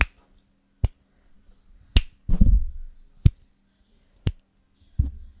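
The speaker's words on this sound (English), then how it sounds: "that's what snaps going around it sounded like" Six sharp finger snaps picked up by a Blue Yeti Pro microphone in omnidirectional mode, crisp and isolated, spaced about a second apart with a soft rustle in between.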